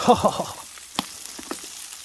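Salmon and sausages sizzle on coals in the LOTRO video game, a soft crackle with a few faint pops that fades after the first half-second.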